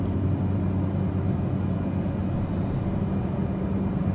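In a flight simulator game, the engine of a Cessna 208B Grand Caravan drones in flight as a steady, loud, low rumbling hum that holds without a break, heard alone with no talking.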